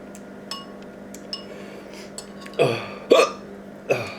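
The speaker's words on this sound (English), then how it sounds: "Hiccups." Hiccups from someone eating spicy Samyang 2x noodles, several sharp isolated hics spaced a second or so apart in a quiet room, the last three loudest and close to the mic.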